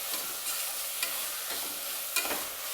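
A biryani mixture is sautéed on a high flame under a constant sizzle. A spoon scrapes and stirs through it in a few soft strokes, close but fairly quiet, with no voices.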